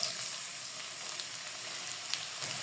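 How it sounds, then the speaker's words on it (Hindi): Finely chopped medium onion sautés in oil over medium heat, giving a soft, even sizzle with a few faint scrapes, close and steady throughout. "प्याज को हम सौते करेंगे,"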